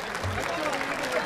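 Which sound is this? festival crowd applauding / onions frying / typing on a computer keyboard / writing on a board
festival crowd applauding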